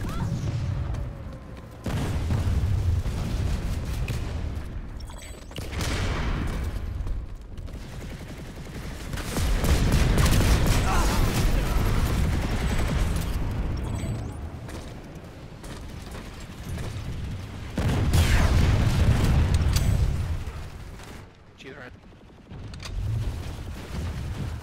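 Heavy booming grenade blasts and bursts of gunfire in a battlefield video game roll in repeated waves of loud, low rumbling impacts, with voices talking briefly underneath.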